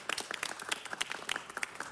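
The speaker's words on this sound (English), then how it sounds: "let's give him a big round of applause" Audience applause in a city council chamber, a short burst of scattered hand clapping from a modest crowd, fairly close and unaccompanied by talk.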